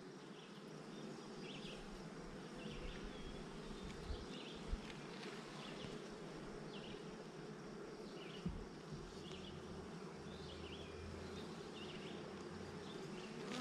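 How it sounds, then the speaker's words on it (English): Honey bees hum and buzz steadily inside a beehive after a swarm, a dense continuous drone close by, with faint scattered knocks and no talking. "there's still a lot of bees in here"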